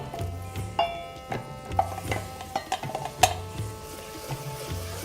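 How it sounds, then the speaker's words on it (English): Tomatoes go into a pan of onions that have cooked about ten minutes for baingan bharta; a soft sizzle runs underneath while a utensil stirs and knocks against the pan in irregular clinks and taps. "So the onions have been cooking for around 10 minutes, and now we'll put our tomatoes in"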